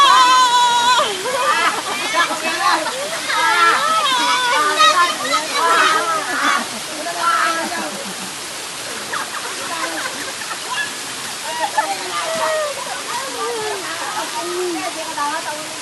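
Water from a provincial waterfall rushes and splashes steadily as people bathe in the pool, with lively voices and chatter from the bathers running over the constant water noise throughout.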